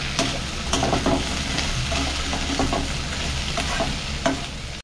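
Chopped brinjal with curry leaves, coriander and salt sautés in a pan for chutney, with continuous loud sizzling and repeated scraping stirs close by.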